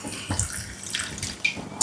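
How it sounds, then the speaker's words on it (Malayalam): Water is poured in short splashing bursts into a cooking pan of cucumber curry on the stove, close and fairly loud with no talk. "അല്പം വെള്ളം കൂടി ഒഴിച്ചു കൊടുക്കാം,"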